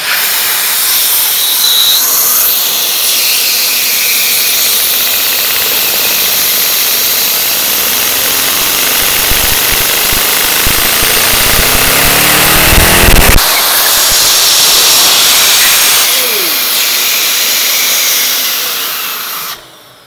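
A Boxer 2 engine roars at full throttle, a loud continuous hissing whine that holds steady for nearly twenty seconds, with a brief sputter and change in tone midway before it carries on and cuts off at the end.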